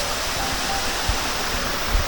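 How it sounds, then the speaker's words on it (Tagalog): A small roadside waterfall in Tucod, Cabarroguis, pouring water into a pool-like basin, a steady loud broadband rush with occasional low thumps, with no voices. "Tapos dito sa banda rito, may maliit din na waterfalls."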